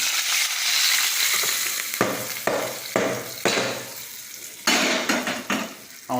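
Curry leaves and urad dal fry in a pan with crackling sizzle, broken by several sharp stirring scrapes of a spoon against the pan, close and steady, no voices.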